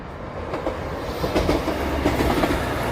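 A train rumbles past close by on the East Lancashire Line between Colne and Skipton, heading towards Nelson, a loud steady roar with rhythmic clacking of wheels over the rails.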